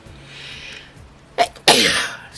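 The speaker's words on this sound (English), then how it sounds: "I had to sneeze." A single close sneeze with a quick intake of breath and then a loud, sharp burst, with quiet room noise before it.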